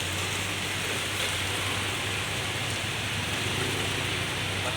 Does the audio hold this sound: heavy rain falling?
yes